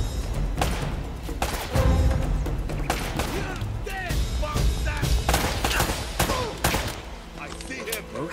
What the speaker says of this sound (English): Why am I getting shot at this time?